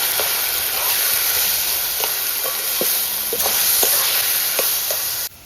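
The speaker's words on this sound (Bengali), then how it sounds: "একটু ভালো করে নাড়াচাড়া করে নেব" Leafy greens with fried garlic sizzle steadily in a pan while being stirred, a continuous frying hiss broken by soft scraping and clinking strokes of the spoon, close and alone.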